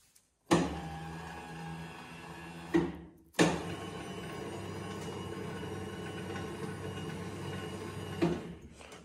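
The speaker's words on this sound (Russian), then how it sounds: "Это у нас подъем опускания стола." Motorized table on a Felder D951 thickness planer, freshly overhauled, whirring steadily as it rises and lowers, with a short mechanical hum that stops briefly and then resumes as a longer continuous drone, close and moderately loud.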